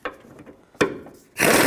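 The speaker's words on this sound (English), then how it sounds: "I'll use my 18mm socket and take these bolts out" Ratchet with an 18mm socket loosening strut bolts on a 2003–2007 Cadillac CTS front passenger side, giving a couple of sharp close clicks and then a loud burst of rapid ratcheting.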